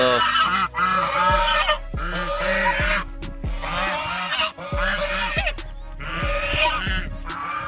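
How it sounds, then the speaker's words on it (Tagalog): A flock of geese at a salt-making site honking loudly and repeatedly, overlapping calls continuing throughout at close range. "Pero may nakita ko dito mga gansa."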